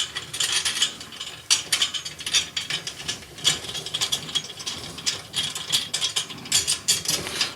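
Snare drum rim tension rods are loosened with a drum key, giving a close, continuous series of quick ratcheting clicks and metallic rattles that rise and fall in bursts.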